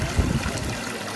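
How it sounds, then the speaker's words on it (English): Small mountain stream, the White Stream (Belyi Kluch) in Taganai in the Ural Mountains, its slightly mineralized water trickling and burbling steadily close by, with a soft low rush beneath. "this is the most famous stream in Taganai, Belyi Kluch, or the White Stream"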